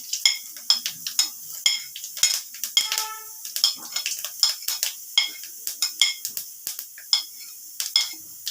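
Fennel seeds tempering in hot oil for a fish kalia give off a rapid series of sharp little crackles and pops, close and fairly quiet, with a faint metallic clink partway through and no talking.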